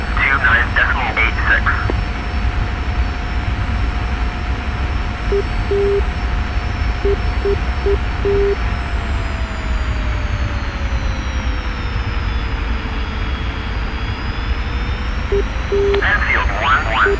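Steady roar of an F-86F Sabre jet engine in the DCS flight simulator, a continuous loud whine with a slowly sweeping pitch, while radio voices talk over it.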